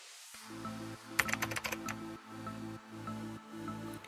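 Keys clatter in a quick burst of typing on a computer keyboard while a folder is named, followed by a distinct press of the Enter key, over a steady low electronic hum.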